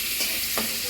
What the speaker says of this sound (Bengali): এই যে পটল ভাজি করতেছি